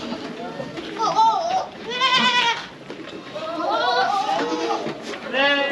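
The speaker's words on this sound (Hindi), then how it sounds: "गोट के साथ में आप यहाँ पे भेड़ भी देख सकते हो, शीप।" Goats and sheep bleat on a goat farm in Nashik, several overlapping wavering calls close by, one after another with brief gaps, with some low background chatter.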